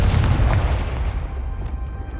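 A Confringo blasting curse in Hogwarts Legacy goes off with a loud, booming explosive burst at the start, its rumbling blast and crackle fading over a couple of seconds.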